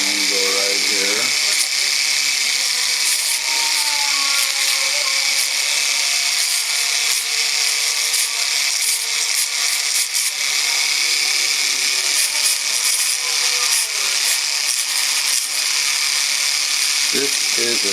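A power tool grinds inside the barrel of a Fiat 850 Weber carburetor, giving a loud, steady, high-pitched whir that runs without a break for the whole stretch, with a voice speaking over it.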